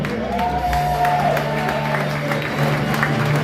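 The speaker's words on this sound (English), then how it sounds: "give yourselves a big round of applause for coming out tonight" Steady applause from a stand-up comedy show audience, sustained and fairly loud throughout, with scattered cheers and whoops mixed in.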